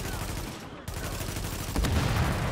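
Gunfire in The Division, a co-op shooter, with enemies firing on a boss: steady rapid shots layered in a loud, busy firefight, a heavier burst near the end, players' voices faintly mixed in.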